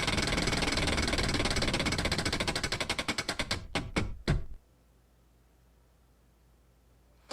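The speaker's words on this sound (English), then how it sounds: "let's go ahead and spin the wheel" A random number wheel spins with rapid clicking ticks that slow and spread out as it winds down, a few last clicks before it stops, then near silence.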